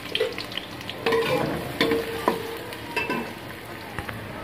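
Onions fry in hot ghee in a pot, giving a close, steady sizzle broken by scraping stirs and clinks of a spoon at irregular intervals.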